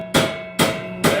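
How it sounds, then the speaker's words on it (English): Three loud, evenly spaced hammer blows ring out on a metal piece, beating it flush on a new logging trailer, each strike bright and sharp with a short metallic ring. "I'm just going to beat this down with a hammer"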